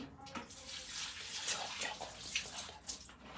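Water pours steadily from a watering container onto potted plants, including a young grapevine, a close, continuous splashing trickle with no talk over it.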